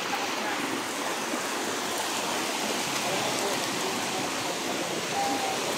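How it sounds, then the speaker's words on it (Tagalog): Heavy rain pours down on a rocky mountaintop, a dense, constant hiss of falling water close to the listener and unbroken throughout. "Lakas ng ulan."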